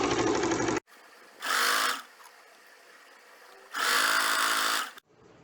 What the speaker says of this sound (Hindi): ये रॉन्ग साइड से फोल्डेड स्ट्रिप को स्टिच कर लेंगे।